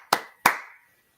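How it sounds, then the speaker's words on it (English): Hands clap sharply during a home space-cleansing ritual, two crisp claps heard close and loud with a short ringing decay, alone and without talk. "I clap three."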